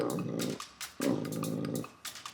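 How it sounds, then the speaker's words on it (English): A large, bossy dog growls in two long, rumbling stretches, close and loud, with a short pause between them and no talking. "it's a bit scary when he's barking in your face like that"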